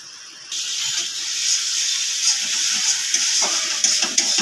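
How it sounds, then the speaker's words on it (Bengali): Sour yogurt frying with spices in a pan for a prawn malai curry made without garlic or onion: a sudden loud sizzle starts after a moment of quieter hiss and continues as a steady, bubbling crackle. "টক দইটাকে এবার ভালো করে মশলার সঙ্গে কষিয়ে নেব।"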